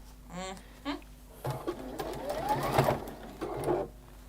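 Home sewing machine stitching fabric, a steady whirring run at moderate level that builds through the middle, after a few short chirps at the start.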